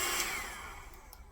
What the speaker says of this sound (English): cheap hair dryer.